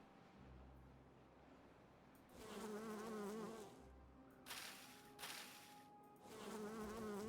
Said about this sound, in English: how these bees are helping.